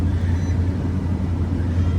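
The engine of a 2013 BMW 328xi, just started at a salvage auction yard, idles with a steady low rumble that runs unbroken throughout.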